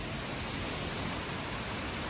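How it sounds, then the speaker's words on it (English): A dense, steady roar of storm wind, broadband and continuous, unbroken with no voices. "Can y'all hear that wind roaring?"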